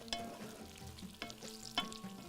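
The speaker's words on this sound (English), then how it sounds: "now we're going to add the potatoes to the onions. So we are going to mix it" Potatoes and onions stirred together in a frying pan for Bahraini machboos laham, making a soft continuous sizzle broken by a few distinct scraping, stirring strokes, close and fairly quiet with no talk.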